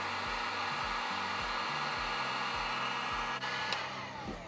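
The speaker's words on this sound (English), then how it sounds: "Grab yourself a heat gun. Ooh, that's a little loud." Heat gun shrinking 3-to-1 shrink tube blows a loud, steady, rushing hiss with a whining motor hum, running continuously close by, with a faint rhythmic thumping underneath and no talk.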